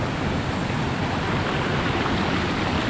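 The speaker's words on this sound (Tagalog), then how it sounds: "Oh, ito na yung ilog." A flowing mountain river, where people draw their water, makes a steady, loud broadband rush of running water with no breaks. No one speaks over it.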